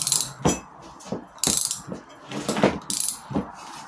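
A wrench works on a tight 9 mm nut on an old Bentley, giving a series of close, sharp ratcheting clicks in short bursts separated by brief quiet gaps.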